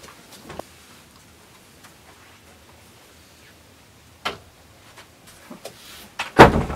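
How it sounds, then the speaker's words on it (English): An office door swings and shuts amid faint background, with a few soft knocks and clicks, then a louder thud and rattle as it closes near the end. "close the door here"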